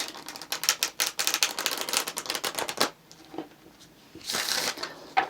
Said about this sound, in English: we're going to cut the deck. Let's get one more shuffle.